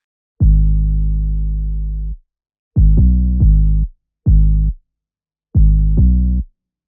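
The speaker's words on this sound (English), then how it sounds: "And the 808 melody sounds like this." 808 bass melody programmed in FL Studio for a track, loud deep sustained tones in a syncopated pattern of one long note and several short punchy hits, with clean gaps of silence between, no voices.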